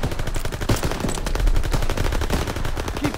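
Machine guns open fire in the Call of Duty: WWII video game, a loud, dense, continuous rattle of rapid automatic bursts filling the whole stretch with no pauses.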